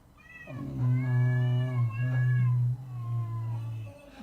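A cat lets out a long, drawn-out meow lasting several seconds, loud and close, with a rising start and a steady wavering tone before it trails off, heard alone.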